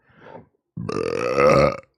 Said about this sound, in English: I have no idea why I decided to belch that one out so loud